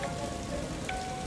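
Heavy rain pours down in a steady, dense roar with no pauses, a constant wash of drops striking surfaces close by, loud and unbroken with no voices.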